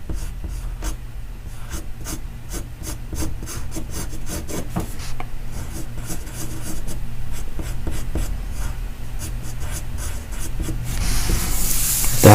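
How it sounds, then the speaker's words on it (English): A Blackwing pencil scratches across paper during drawing, with a steady, close rasp of dense strokes throughout, a bit louder and rougher at the end. "thanks to the magic of the Blackwing pencil"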